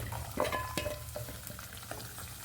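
Onions and curry leaves sizzle and fry in hot oil in a pan for an egg masala, with a steady low crackle broken by a few sharp stirring clinks.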